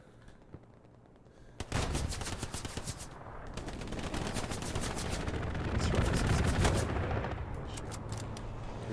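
Rapid gunfire in the World War II video game Hell Let Loose, with bursts of automatic fire that crack out after a quiet start and keep going, loud and close, with a second dense flurry near the end.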